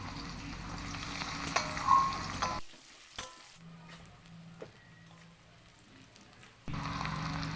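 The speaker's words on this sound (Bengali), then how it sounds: "কড়াইতে দিয়ে দিচ্ছি কেটে রাখা পেঁয়াজ ভেজে নেব" Chopped onions fry in oil in a wok with a bright, close sizzle that drops away to near silence midway, leaving faint tones, before the frying hiss returns abruptly at the end.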